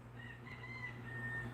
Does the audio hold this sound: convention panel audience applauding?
no